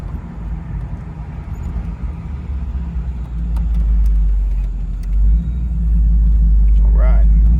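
A 1968 Chevrolet Camaro convertible RS engine rumbles loudly and builds as it revs and accelerates, a deep steady roar swelling toward the end.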